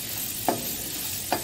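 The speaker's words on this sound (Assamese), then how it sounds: "এনেকৈ আৰু 2 মিনিট 5 মিনিট ভাজিম।" Something frying in a pan, a constant close sizzle broken by two brief scrapes of stirring about a second apart.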